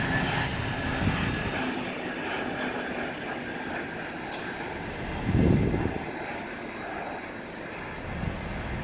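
An Airbus A321neo's engines give a continuous jet roar that swells briefly louder midway, then settles back to a steady drone with no speech.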